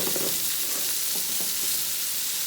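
Cube steaks sizzle steadily in a frying pan as they brown, a close, continuous crackling hiss with no one talking.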